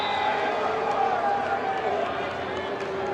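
A home crowd of Madison Radicals fans roars at an outdoor professional ultimate frisbee game against the Minnesota Wind Chill: a dense, continuous wash of cheering that holds steady at a fairly loud level throughout.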